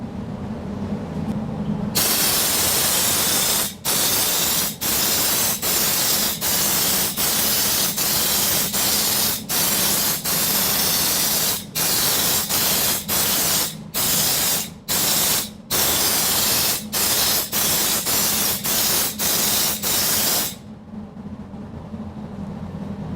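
Loud continuous spraying hiss from a spray gun applying undercoating to a car underside, cut by many brief pauses as the trigger is released and pressed again.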